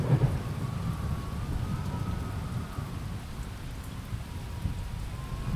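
A steady rain pours through a thunderstorm on a dark, stormy night in the video game Jenny LeClue, with a constant dense hiss and low rumbling thunder running through the whole stretch.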